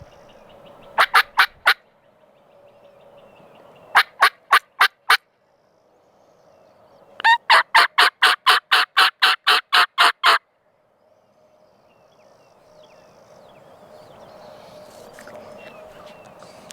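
A wild turkey gobbles during a turkey hunt in Texas or Arkansas: three separate runs of rapid rattling gobbles, the last one long, set against a quiet outdoor background.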